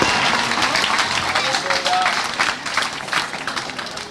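A church congregation applauds and cheers throughout, dense clapping mixed with raised voices and shouts, loud and sustained without a break.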